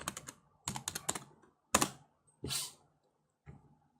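Short bursts of typing on a computer keyboard, a few clustered clicks at a time with quiet gaps between, close and fairly soft.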